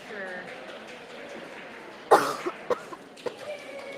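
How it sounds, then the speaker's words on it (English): Someone coughs a few times, one sharp cough followed by smaller ones, close by, with faint voices at a jigsaw puzzle championship underneath. "I'm so sorry for my coughing."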